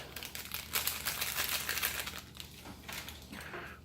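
Russian RPMK six-man ration coffee packet crinkling as its contents are emptied into a milky drink, a close, steady rustle of foil or plastic that tapers into softer crackles.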